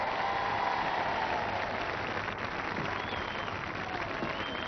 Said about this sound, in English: A round of applause for Gary Lineker.